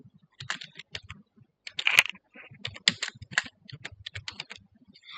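Fast, close typing on a computer keyboard as a customer ID is entered, crisp key clicks in uneven bursts with short pauses, fairly loud and alone without speech.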